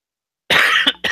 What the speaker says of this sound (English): Here's that cough I warned you all of.